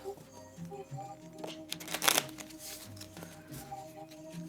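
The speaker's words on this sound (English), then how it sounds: "You want them to be nice and thoroughly shuffled." Catan development cards being shuffled by hand, soft riffling and shuffling with a brief louder burst partway through, quiet and close.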